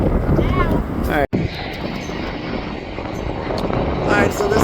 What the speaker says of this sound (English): this is a Kalita airplane. Or Kalita. Whatever you call it. It's a 747-400.